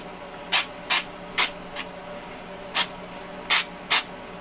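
Short spray bursts of texture coat onto a foamcore model building, seven quick hissing blasts spaced unevenly, some longer and one faint, close and alone.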